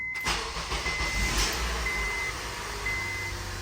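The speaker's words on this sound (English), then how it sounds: "So let's turn the car on." A Honda car engine cranks and catches at the start, then settles into a steady close idle with a faint high whine over it.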